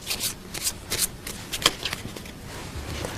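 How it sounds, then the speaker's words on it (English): A Svengali magic card deck mixed by hand, each half shuffled in a quick series of close, crisp riffles and rubs that thin out toward the end, heard alone without talk. "I'll actually mix each half up like this, mixing the cards up really good"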